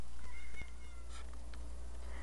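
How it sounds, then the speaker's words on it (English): A pet cat named Douglas meows faintly indoors, a couple of short calls over a steady low hum and background noise. "Ruger, Douglas, come here, kitty, kitty"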